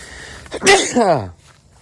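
A single sharp sneeze bursts out close by, a quick intake then an explosive release that trails off into a brief voiced tail.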